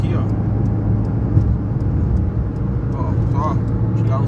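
A Fiat Uno Way cruising at 100 km/h in gear gives a loud, steady low rumble of engine and road noise that fills the cabin without a break.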